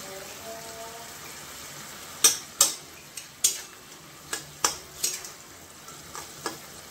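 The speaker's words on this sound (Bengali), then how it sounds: "ভাজা ডিম আর ওই ভাবানো ডিম সব একসঙ্গে মিশিয়ে দিয়ে দিলাম" A spatula stirs fried eggs with salt and spices in a pan, making a series of sharp scraping clicks at an uneven rhythm over a faint, low background hiss.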